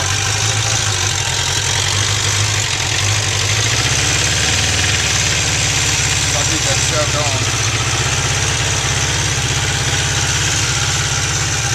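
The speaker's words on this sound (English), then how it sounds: "Cold start of the 96 Katana. I think it needs to warm up just a little bit more." A 1996 Suzuki Katana 600 motorcycle idles steadily after a cold start, its engine giving a continuous loud, even mid-low rumble with a slight knock, running alone throughout.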